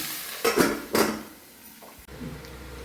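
A covered pot of curry is stirred on a low flame: two clear scraping, clanking strokes of a spoon against the metal pot, followed by a softer clink and a faint background sizzle, close and without speech.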